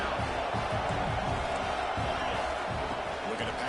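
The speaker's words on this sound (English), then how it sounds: "Here comes the crowd noise" Stadium crowd noise at a football game, a dense, steady roar from a large crowd behind a play-by-play commentator's voice.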